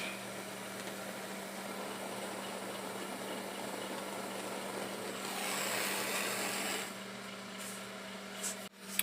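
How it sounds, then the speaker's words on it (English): Propane torch flame hissing steadily as it lightly scorches the wooden stars of a handmade American flag, a broad roaring rush that swells midway then fades, with a low hum underneath and a brief clatter at the end. "I just touch the stars with the torch a little bit"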